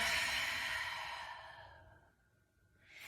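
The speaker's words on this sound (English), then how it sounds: "take an inhale through your nose. Long exhale." A person breathes out in one long, airy exhale that fades away slowly, followed by the start of a fresh breath, close and fairly soft with no talking.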